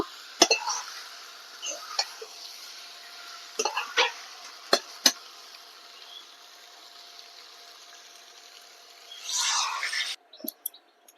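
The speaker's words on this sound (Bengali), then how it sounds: "আলুটা দিয়ে এরকম একটু নেড়ে চেড়ে তারপরে আমি জল দিয়ে দেব" Potatoes stirred into fried, dried-down spice paste in a pan for a rui fish curry, giving scattered scraping taps and clinks of a spatula, then a brief busier burst of stirring near the end.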